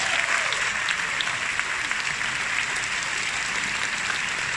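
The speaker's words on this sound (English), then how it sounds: "let's give a round of applause for all of the associates who are here at their very first Asia Pacific Convention" A large convention crowd at an Asia Pacific Convention general session gives a sustained round of applause, a thick, continuous roar of many hands clapping at a steady level with no break.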